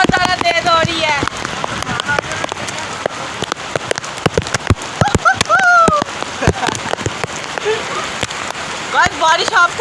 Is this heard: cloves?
no